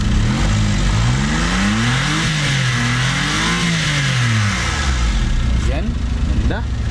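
A turbo 3-cylinder inline all-aluminum engine with timing chain in a Riez Concept Wagon revs up and down twice, its pitch rising and falling, then settles to a loud, close idle. A voice speaks over it.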